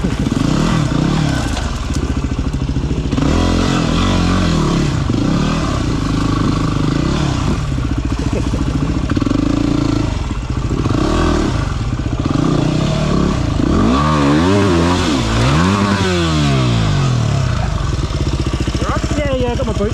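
A Yamaha WR250R dirt bike engine runs close by on an enduro trail in Avon Valley, rumbling and revving with rising and falling pitch sweeps, clatter mixed in and people talking over it.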